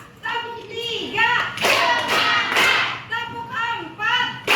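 Children in a classroom clapping game, bursts of sharp, rhythmic hand claps between short passages of a teacher's voice and children's voices chanting along.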